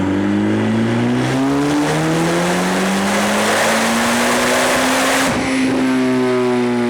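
A tuned C8 Corvette ZR1 on a JB4 Map 3 tune with 100 octane fuel accelerates hard, its engine note climbing steadily and loudly through the gears with a brief shift break, close up and with no talking.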